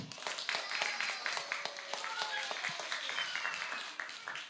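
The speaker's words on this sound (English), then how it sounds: "let's cheer them on" An audience at a church vacation Bible school claps steadily for a child, with brisk, moderately close applause and scattered cheering over the whole stretch.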